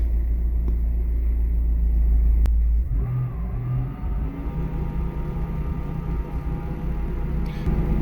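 A 2006 Honda CR-V with a K-series engine idles close by in a steady low rumble, with a brief rev early on, then settles into an even running drone.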